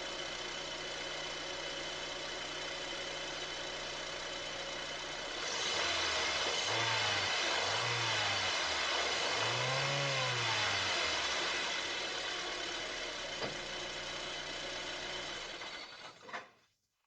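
A car engine with a relatively new catalytic converter idles with a steady drone, then revs up and down in several rising swells toward 3,000 rpm, holds high, and settles before cutting off.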